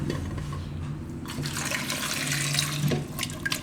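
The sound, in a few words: water poured into pressure cooker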